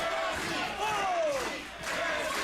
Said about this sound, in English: You can hear this crowd solidly behind Jesse the Snake Poole.